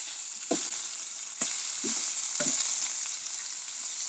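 Food sizzles steadily in a hot pan after being flipped during a healthy cooking demonstration, a constant frying hiss with a few soft clicks and bumps from handling.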